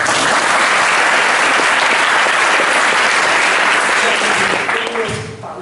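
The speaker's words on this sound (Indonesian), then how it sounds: "Tepuk tangan untuk Alfa." Loud, dense applause from an audience at an Indonesian book discussion on the history of pesantren, sustained and steady before tapering off near the end.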